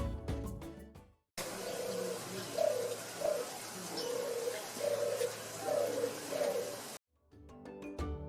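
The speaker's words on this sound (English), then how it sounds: "releasing a delicate cooing sound to capture the female's attention" Turtle dove cooing in a repeated soft purring series, fairly faint outdoors over steady background ambience, with abrupt cuts to music at either end.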